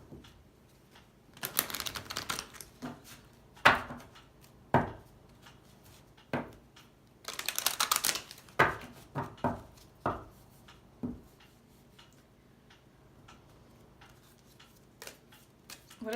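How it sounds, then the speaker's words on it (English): Cards from a Love Oracle deck being shuffled and handled, giving scattered soft slaps, flicks and riffling bursts at close range, with quiet pauses in between. "I'm going to pull 2 love cards from Doreen Virtue's Love Oracle deck."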